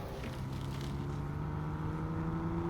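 A truck engine in the video game SnowRunner idles with a low, constant hum and a faint tonal whine, unchanging and close throughout.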